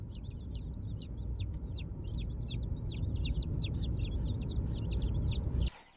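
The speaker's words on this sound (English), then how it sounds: "let's head up to the shop and take a look at the chicks and see how they're doing" Baby barred rock and black Australorp chicks peep in a steady stream of high, repeated chirps over a low, constant hum in a shop, and the sound cuts off sharply near the end.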